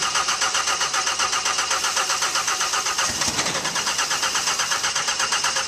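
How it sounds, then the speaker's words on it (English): A car engine with a suspected wiring fault revs up as the throttle is opened, a steady loud mechanical drone that swells and rises in pitch midway, close by and without talk. "Open up the throttle."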